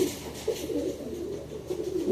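A pigeon coos softly while being held up at a pigeon show, its low throaty calls rising and falling in several short bursts close to the listener.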